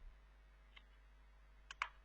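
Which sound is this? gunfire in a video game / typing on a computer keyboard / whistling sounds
typing on a computer keyboard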